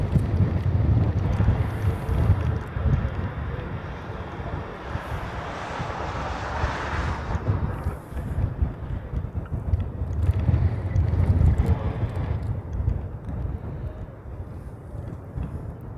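Strong gusty wind buffets the microphone beside the runway at Honolulu airport, a rough low roar that swells and eases in waves, with the distant rumble of aircraft engines blended underneath.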